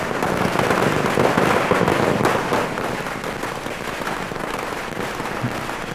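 Firecrackers burst during a public street celebration in Hojai, Assam, a dense, continuous crackling barrage of rapid pops that stays loud and unbroken throughout.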